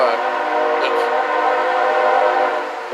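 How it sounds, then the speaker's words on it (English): A train passes close by with a long, steady horn blast, its layered tones holding loud and continuous throughout while the rail rumble carries beneath it. "And here comes the train."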